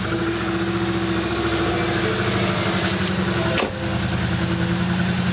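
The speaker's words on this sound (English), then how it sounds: "I'm going to start the engine so you can see how cool the engine sounds with no exhaust" Car engine idling with no exhaust fitted, a loud, close, raw rumble holding steady throughout, with a brief dip and catch partway through before settling back into the same idle.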